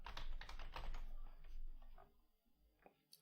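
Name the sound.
typing on a computer keyboard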